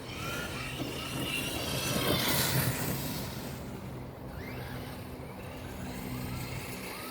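A Tekno MT410 3S electric RC monster truck with a Pro Line Silverado body accelerates at full throttle outdoors, a continuous whining motor and tire rush that swells then eases, moderately loud with no talking.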